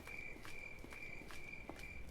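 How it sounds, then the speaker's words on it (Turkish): Faint, evenly spaced footsteps from the left in the horror video game Granny 3, soft regular thuds under a steady high electronic tone and low ambient hum. "Solda ayak sesi."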